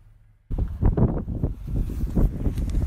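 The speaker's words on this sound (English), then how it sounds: "It's a very windy day today." Strong wind on a coastal walk at Durdle in Dorset gusts across the microphone, starting abruptly as a low, rough rumble that swells and buffets steadily with no talking.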